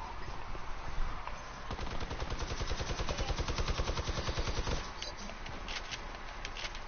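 Sustained rapid-fire shooting in a video game, a steady rattling stream of shots running for several seconds at moderate, somewhat muffled volume, then thinning to sporadic pops.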